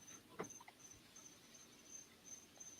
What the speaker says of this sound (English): The cricket is soothing, though.